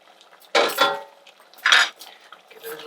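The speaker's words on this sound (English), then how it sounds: "Give it a little stir." Rice stirred in a wet pan for a potato and egg vegetable curry: two short bursts of scraping and clattering from a utensil against the pan, close by, with soft rustling between them.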